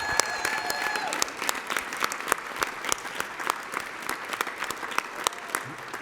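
Audience applause at a gala fills the room with steady, moderately loud clapping, its individual sharp claps audible across the whole stretch, with a brief voice near the start.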